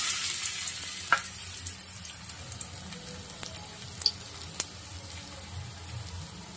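Potato piyaju fritters sizzle in hot oil over a low gas flame, a steady close frying crackle with a few sharp pops and spatters, no voices.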